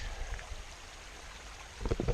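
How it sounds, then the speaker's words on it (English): Drycombe Beck, a small stream crossing a fell path on Bowscale Fell, gives a soft, steady rush of babbling water, with a few louder gurgles and bumps near the end. "nice little babbling brook that it is"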